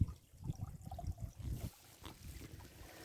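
A small stream trickling, soft and fairly faint, with a low rumbling burble in the first half that thins to a gentle, steady flow.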